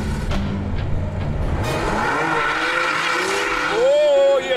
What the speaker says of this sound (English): Test 2, a race around the Snetterton circuit.